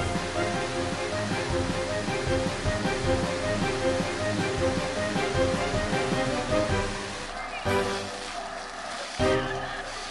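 Park fountains and water play features pour and splash in a steady, dense wash of water that holds at full strength, with a couple of brief dips and swells near the end.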